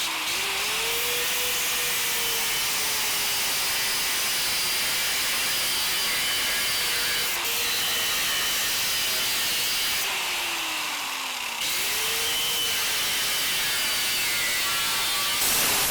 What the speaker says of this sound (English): I'm gonna cut those welds off